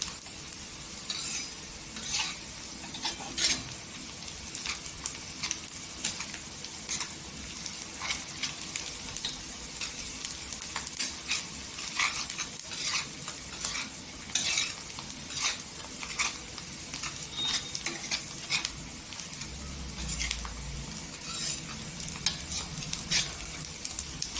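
Chopped onions fry and sizzle steadily in oil in a pan on a home stove while being cooked for an egg tawa masala, with frequent scraping stirs and clinks of a spoon against the pan throughout, close and moderately loud.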